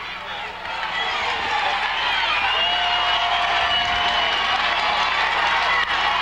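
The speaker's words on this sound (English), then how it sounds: "Crowd really into this one." A crowd at a high school football game, Strath Haven versus Pottstown, sends up a broad, sustained roar of cheering that swells after the first second and stays loud, with an announcer's voice running underneath.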